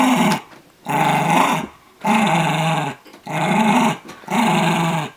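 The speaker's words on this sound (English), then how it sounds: "Look at crazy rabid dog" A dog growls in low, rumbling bursts, five of them separated by short pauses, close and loud with no talking.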